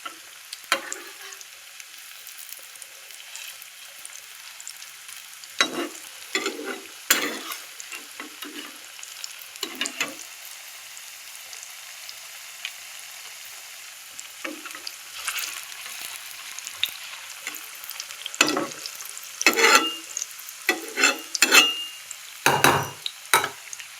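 Pea and potato pakoras deep frying in hot oil give a steady close sizzle broken by repeated louder crackling bursts as pieces are dropped in and turned, with no talk.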